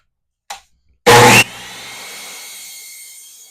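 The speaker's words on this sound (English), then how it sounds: "I'm going to set my saw to 45. And I'm going to miter one side." A power saw set to 45 degrees makes a miter cut in scrap wood: after a faint click, a loud, very brief burst of cutting is followed by a long, fading whine as the blade spins down.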